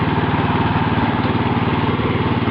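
A mini tractor's engine labours steadily in first gear while pulling a chisel plough at maximum depth through a field. It makes a loud, continuous close-up drone with an even, throbbing rhythm and no pauses.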